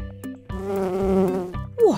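A cartoon bee buzzes in a steady, close drone with a wavering pitch, broken by a few short synthetic blips and ending on a falling swoop.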